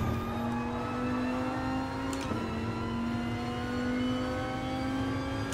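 Dodge Viper Gr.4 race car in GT Sport on the Bathurst track, engine droning at steady full throttle with a strong sustained tone and a brief gear-change dip midway, without speech.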